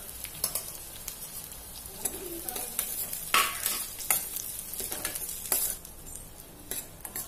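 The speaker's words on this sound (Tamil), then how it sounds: "மிளகாய் பொரிஞ்சதும் பூண்டு போட்டு நல்லா பொன்னிறமா வர வரைக்கும் ஃப்ரை பண்ணிக்கோங்க" Garlic and small shallot onions sizzling in hot oil in a pan for a Tamil curry-leaf gravy, with a steady fry hiss broken by repeated stirring scrapes and clinks of a spoon against the pan.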